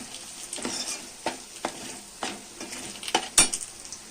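Homemade black masala with onion-garlic spice mix and fish being stirred in a pan makes a steady soft sizzle with repeated spatula scrapes about every half second, and a sharper metallic clink near the end, close.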